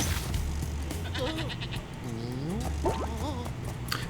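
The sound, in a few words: goat bleating in video game Spyro 2 Ripto's Rage Reignited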